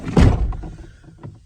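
A door slammed shut during a leaking radiator pipe repair, one loud thud at the start that fades, followed by softer knocks and a faint later bump.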